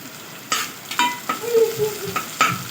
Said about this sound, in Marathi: चिमूटभर मीठ घालून थोडंसं परतवून घेऊया, जेणेकरून आपला कांदा लवकर मऊ होईल.